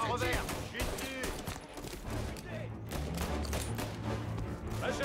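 Gunfire in the video game Mafia, with dense, continuous shooting bursts and thuds filling the mix while someone talks over the battle noise.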